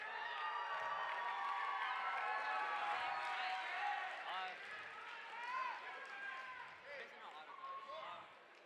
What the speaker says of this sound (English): These guys worked hard this year. They deserve some cheers.